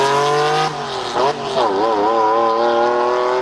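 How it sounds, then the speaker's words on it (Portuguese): A Lamborghini Diablo engine roars loud and close, its pitch sweeping up and down through sustained revs, with a voice faintly underneath. "o motor do Lamborghini parecia gritar, encapsulando a essência dos supercarros italianos"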